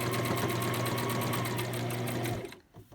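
A sewing machine stitching a dog coat runs in a fast, steady mechanical whir with rhythmic needle clatter, close and continuous, then stops abruptly with a brief rustle of fabric.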